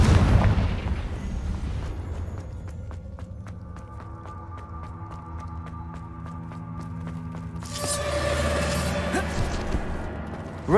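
Confringo fire spells burst in Hogwarts Legacy gameplay: booming explosions open the stretch, followed by ringing magical tones and another rumbling blast near the end, loud and close with no talk.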